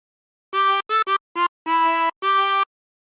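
A 16-hole tremolo harmonica plays a short Yankee Doodle phrase, six clear wavering notes in a brisk rhythm, close and alone against silence.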